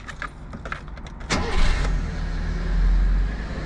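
A kei van's engine cranks and starts after a brief key rattle, then settles into a low, steady idle, heard close from inside the cab with no talking.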